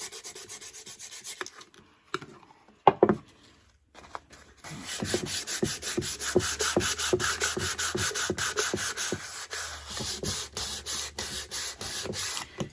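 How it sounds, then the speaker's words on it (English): Unfinished thrifted wood surface sanded by hand with light pressure: a few soft knocks and scrapes at first, then a run of close, rhythmic, raspy strokes repeating steadily, with no talking. "Now what I'm doing here is I'm sanding the entire surface to give it the same texture."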